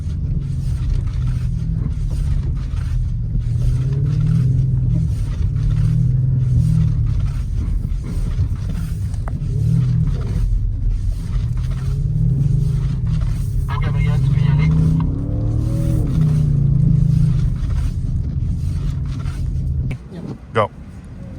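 A big, heavy Audi RS6 drives through wintry conditions, its deep steady engine rumble pulsing under continuous talk for most of the stretch.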